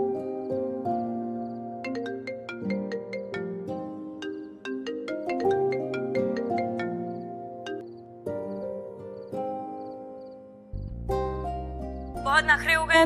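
A mobile phone ringtone plays a repeating electronic melody for over ten seconds, unanswered, at moderate volume, with a brief burst of other sound near the end.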